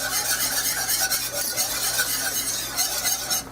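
A flour mixture for beef stew is stirred in a pot with continuous scraping and swishing strokes over a low bubbling simmer, close and fairly loud throughout.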